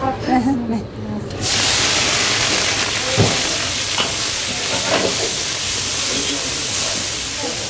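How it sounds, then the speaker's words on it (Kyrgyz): Rice slowly simmering in a pot on the stove, a steady broad hiss and soft bubbling that runs on without a break after a brief quieter opening, with a few faint clinks of stirring. "Бул эми акырын кайнай берсин"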